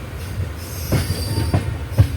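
Close rail rumble of the Island Express at Thiruvananthapuram Central, with faint wheel squeal overhead and three evenly spaced clacks as the wheels cross rail joints.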